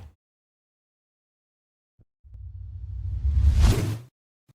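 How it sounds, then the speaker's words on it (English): A whoosh sound effect used as a riser swells from a low rumble into a bright airy rush that peaks, then cuts off abruptly. A short soft tick comes first, and no one talks. "I could use this whoosh as a riser"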